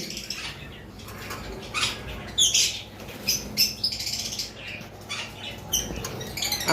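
Yellow-collared lovebirds, double-factor birds in a bird shop, give a scatter of sharp chirps and squawks, some close and loud, over a steady low hum of background noise, with no talking.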